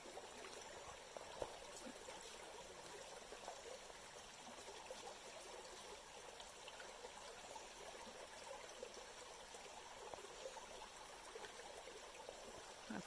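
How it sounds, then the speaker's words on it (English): A small creek flowing strongly after rain, heard as a steady, even babble and trickle of water throughout, fairly quiet, with no voices. "right now I'm down by a little creek"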